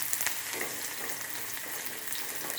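Onions frying in hot oil on a stove, a steady, faint hissing sizzle with no talking.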